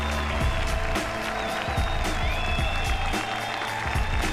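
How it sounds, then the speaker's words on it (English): Audience applause and crowd noise after a boxing semifinal bout, steady dense clapping mixed with cheering and arena din, with a commentator talking over it. "Everybody should stand up and applaud them."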